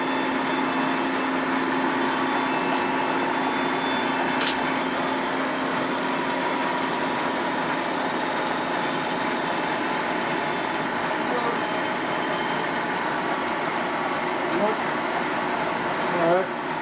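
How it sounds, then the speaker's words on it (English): A milling machine cuts a Harley-Davidson shovelhead engine case in a shop, giving a continuous buzzing mechanical drone with a rapid chattering texture that stays steady and close from start to finish. "Now we're doing a milling right now here."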